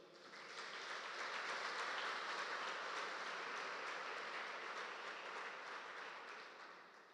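A church congregation applauds at a celebration service, a dense, sustained wash of clapping that swells and fades over several seconds, fairly distant and soft.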